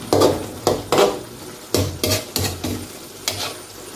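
Food stirred in a pan, heard as about eight distinct scraping and clattering strokes of a utensil against the metal, each short and close, over a faint sizzle, with no voices.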